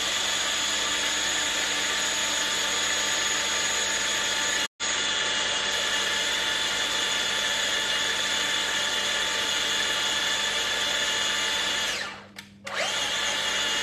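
A small electric mixer whips eggs with sugar for lemon cakes, a steady loud motorised whir that runs continuously, cuts out briefly, then resumes before slowing and stopping near the end.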